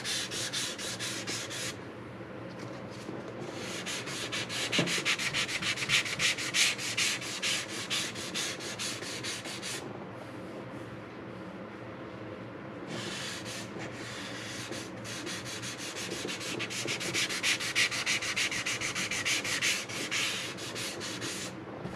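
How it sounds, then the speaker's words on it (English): Wood being sanded during guitar building work, a steady broadband rasping scrub heard up close in long continuous strokes with brief pauses between passes, alone without talk. "This wood itself sands very nicely, quickly, and the grains are just beautiful on it."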